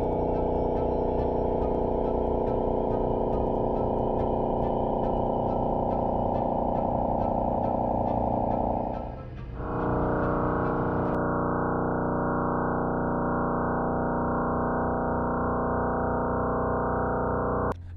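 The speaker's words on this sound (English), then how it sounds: "Pulsars are spinning stars that act like cosmic lighthouses." A pulsar's radio signal converted to sound, heard as a loud, steady electronic drone with a rapid buzzing pulse that shifts to a different steady tone about halfway through and continues alone.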